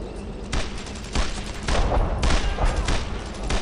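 Suppressing fire in the WWII shooter Brothers in Arms, a sustained fusillade of loud rifle and machine-gun shots in repeated bursts, dense and close, with little else audible.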